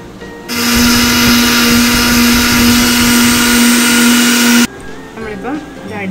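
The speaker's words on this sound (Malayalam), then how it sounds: "ഇനി ഇതെല്ലാം കൂടി ഇട്ട് നമുക്കൊന്ന് അടിച്ചെടുക്കാം." A mixer grinder blending grated coconut with milk, running in one loud, steady whine for about four seconds before cutting off abruptly, followed by quieter clatter.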